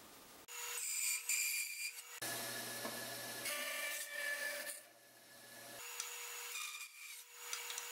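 Wood is sawn away from a cherry log by hand, with repeated rasping strokes, close and fairly loud, in uneven bursts and brief pauses, with no voices.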